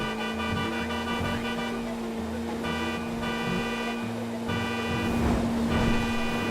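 Car in GTA 5 racing at full speed in online play, a steady engine drone with horn-like tonal layers and game music throughout, loud and continuous, with a voice under it.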